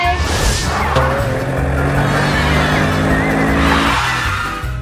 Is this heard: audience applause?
no